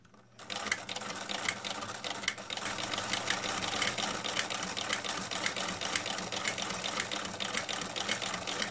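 A Singer sewing machine with a buttonholer attachment stitches a buttonhole, giving a steady, fast mechanical whirr and patter that runs continuously at moderate volume with no talk over it.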